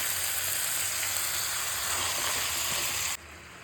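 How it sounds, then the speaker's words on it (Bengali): Mutton fries with spices in a pan over a high gas flame, giving a loud, steady, close sizzle that drops off abruptly just before the end. "গ্যাস কিন্তু হাইয়ে রেখেছি, 5 মিনিট হাইয়ে কষিয়ে গ্যাসটা সিমে করে দেবো।"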